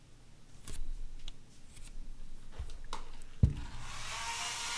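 A hair dryer blows on a watercolor painting of a sunset sky and sea, its steady whirring airflow swelling near the end. A few soft knocks and clicks sit under it, and no one speaks.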